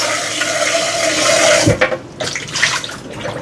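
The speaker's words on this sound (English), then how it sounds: "over here, I'm going to rinse my pot" Water splashes into a cooking pot under a running tap, a loud steady rush that breaks off partway through and then returns as choppier splashing and sloshing.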